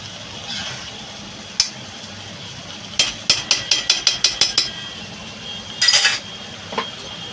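A vegetable curry is stirred in a metal pan: a quick run of rhythmic spoon clinks against the pan, with a few scattered taps and a brief scraping rattle, close and fairly clear.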